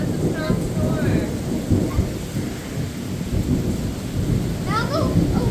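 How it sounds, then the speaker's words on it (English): Heavy rain and rolling thunder in a severe thunderstorm, a steady dense roar of rainfall with low rumbling throughout and faint children's voices briefly audible beneath it. "That's a strong storm."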